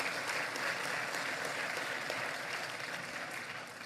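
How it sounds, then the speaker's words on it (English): Sustained applause from a crowd at an election results declaration, dense and even clapping that fades slightly toward the end, with no voices over it. "And we applaud you"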